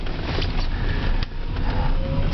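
An electric car's new motor idles during a test drive, giving a steady, continuous hum with broad road-like noise and a faint whine that holds throughout.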